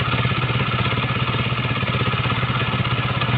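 A Honda CBR 150 motorcycle engine runs at a steady idle, close and loud, with an even rapid chugging pulse and mechanical clatter throughout.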